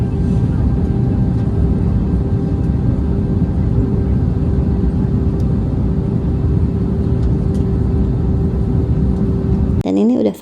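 Steady airplane cabin noise during a flight, a continuous low roar with a faint hum throughout, and a voice briefly at the very end.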